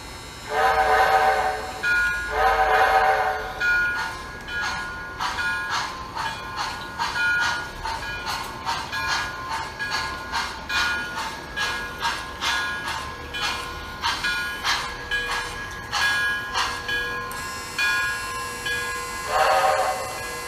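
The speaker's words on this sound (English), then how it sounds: "Alrighty, guys, here comes our 4th locomotive." A model 4-4-0 American class steam locomotive runs past, its clear repeated rhythmic chuffing and clicking beats framed by shrill whistle blasts at the start and end.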